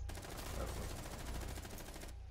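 Rapid automatic gunfire in Rainbow Six Siege, a dense unbroken burst of shots lasting about two seconds with no voices over it.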